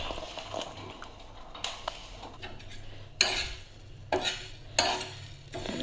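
Coriander seeds being dry-roasted and stirred in a pan give a soft scraping rattle with a faint sizzle, punctuated by a few sharper bursts of metal-on-pan contact.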